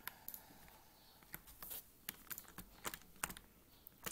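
Light, irregular typing on a computer keyboard, bursts of quick key clicks with short gaps, close and quiet with no voices.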